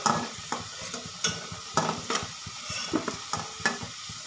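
Potatoes being fried and stirred in a pan for an aloo fulkopi dish, a steady sizzle broken by repeated sharp scraping strokes of the spatula at close range, with no talking.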